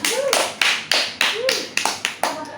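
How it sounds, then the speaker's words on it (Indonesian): Scattered hand claps from a small audience, offered for a speaker from Bekasi during a public speaking class, come in a few uneven bursts alongside voices. "Ayo kita tepuk tangan dulu buat orang Bekasi ini."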